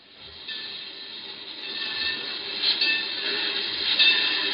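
A freight train rolls along railroad tracks in a radio drama effect, a steady metallic clatter and rumble with faint wheel squeal, growing slightly louder as it continues.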